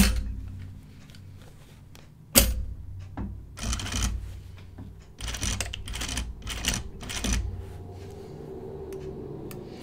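A home sewing machine stitches men's pants near the fly and zipper, running in short mechanical bursts with a sharp clack at the start and pauses between runs.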